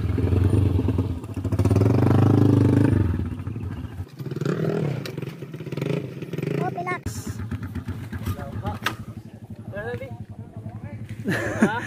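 A Honda TMX habal-habal motorcycle with a Skylab setup runs on a road in Surigao, its engine drone steady with rattling clatter underneath and voices talking over it.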